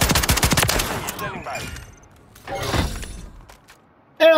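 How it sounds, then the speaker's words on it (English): Video game gunfire opens with a fast, loud burst of rapid shots, then a few scattered bangs and impacts, followed by quieter stretches and a sudden sharp sound at the end. "I'm shooting at him."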